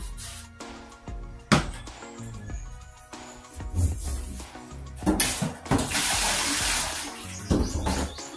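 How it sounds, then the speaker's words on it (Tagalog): A wok rinsed under a running kitchen tap, water splashing and gushing in uneven bursts with clanks and scrubbing of the pan, growing louder and fuller toward the end. "Yung kawali naman, hinugasan ko para ito ang binulang isda."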